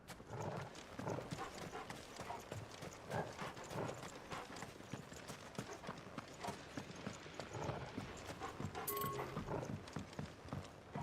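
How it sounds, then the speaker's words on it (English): Horse hooves clip-clop steadily through Final Fantasy XVI, a busy rhythmic trot of moderately loud footfalls over game ambience and music, with a brief whinny-like cry near the end. "The horse is called Sleipnir"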